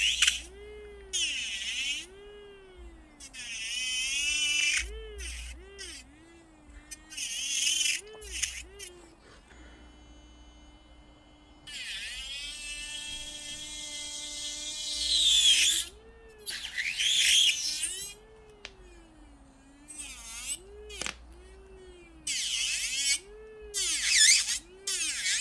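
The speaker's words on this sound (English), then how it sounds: "And I'm just letting the drill carve that out." Electric nail drill carving down the bulk of an acrylic nail to shape the C curve, its whine rising and falling in repeated bursts between pauses, with someone talking over it at times.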